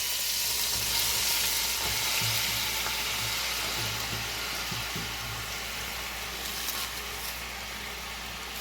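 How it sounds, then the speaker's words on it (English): Cabbage frying in hot oil seasoned with red pepper flakes, a steady loud sizzle with occasional stirring scrapes and a low hum underneath. "Just going to season our oil. Slowly adding your cabbage."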